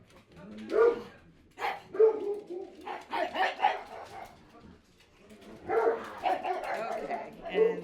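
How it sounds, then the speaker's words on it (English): Several dogs bark and yip in bursts, fairly close, with a person talking over and between the barks. "now you're getting to hear the dogs"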